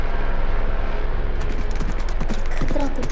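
A helicopter flies overhead with a steady, loud roar and rotor chop, close and dominant throughout, with irregular thumping bursts building toward the end.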